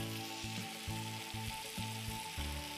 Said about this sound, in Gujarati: હવે આને ખાંડને બરાબર પીગળવા દેવાની છે અને થોડો વાર આપણે એને ઉકાળીશું